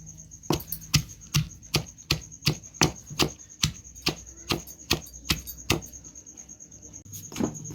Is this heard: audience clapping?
no